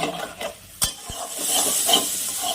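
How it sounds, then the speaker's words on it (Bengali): A spice paste (masala) fries and is stirred in a pan for a spicy fish curry, with steady close sizzling and a few sharp scraping knocks of the spatula partway through. "মশলাটাকে ভালো করে কষিয়ে নিব"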